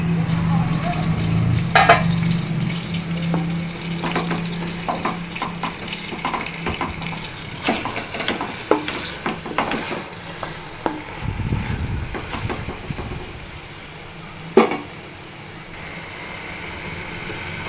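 Donne chicken biryani, Karnataka style, cooking in a pot with mint and coriander: a spoon scrapes and stirs through sizzling contents in close, irregular strokes, with a steady frying hiss beneath and one sharp clank near the end.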